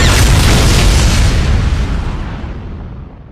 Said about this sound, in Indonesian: Bom itu pun meledak